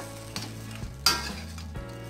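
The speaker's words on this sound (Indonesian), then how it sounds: "Kita aduk ya, kita besarkan apinya" Shrimp sizzling and frying in sauce in a pan as a utensil stirs it, steady close crackle with a few scraping strokes and one sharper clatter midway.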